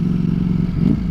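Low, rumbling engine note from a 2020 Ducati Streetfighter V4 in sport mode, held low in the rev range with small on-off throttle blips, steady and close throughout with a slight rise near the end.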